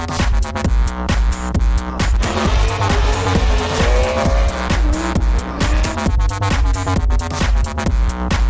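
A Scion drift car at a night drift event in Las Vegas is thrown in with the e-brake, loud engine revving and sustained, wavering tire squeal up close, with bursts of skidding, with no talking.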